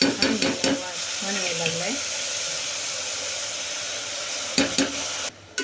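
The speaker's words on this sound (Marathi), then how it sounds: "आता या फोडणीमध्ये आपण ते टाकून घेऊ" Loud, steady sizzling as washed rice hits a hot tempering for vegetable khichdi, with clattering and stirring at the start and end, and a brief break near the finish.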